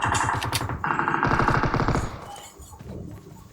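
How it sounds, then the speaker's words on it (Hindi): Rapid automatic gunfire sprays bullets in the mobile battle-royale game BGMI, a loud, dense burst of rattling shots lasting about two seconds before fading into scattered fainter shots and echo. "जैसे गोलियाँ स्प्रे हो रही थी ना तो बंदे नहीं दिखे दोस्तों"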